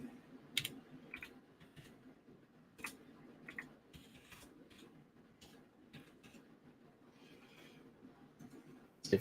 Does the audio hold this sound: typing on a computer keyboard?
yes